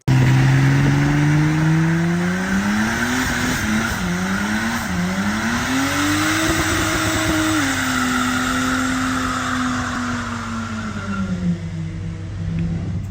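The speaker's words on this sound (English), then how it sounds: "You can just tell by the dose your car's making now." A turbocharged RB30-engined car doing a skid, its engine roaring loud and close with rising and falling revs, tyres squealing and turbo whoosh over a continuous, aggressive drone.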